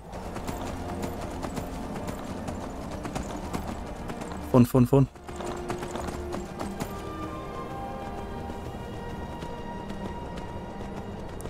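Horse hooves clip-clopping in a steady galloping rhythm in modded Skyrim on Xbox Series X, running continuously under game ambience, with a brief spoken word partway through.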